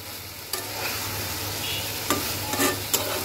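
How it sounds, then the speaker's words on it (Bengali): Taro leaves with a hilsa fish head and cumin powder stirred in a hot pan, giving a steady sizzle with a few sharp spoon-scraping strokes against the pan. "এবার সুন্দর করে এবার আমি নাড়িয়ে দেব।"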